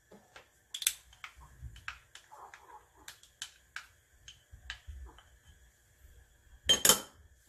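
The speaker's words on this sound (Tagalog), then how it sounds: "Haluin lang natin ng" A utensil stirs chicken with chili flakes, black pepper and oyster sauce, giving quiet scattered clinks and scrapes in an irregular rhythm, with one louder clink near the end.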